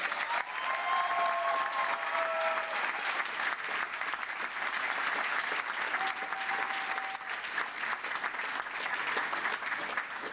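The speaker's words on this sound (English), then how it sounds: "And more applause, please." Guests at a University of West London graduation ceremony applaud steadily for about ten seconds. The clapping is even and continuous, heard from a little distance in a large hall, with no voices over it.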